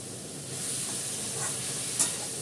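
Water sprinkled into a hot cooking pan, giving a steady close sizzle and hiss with a brief sharper spit near the end.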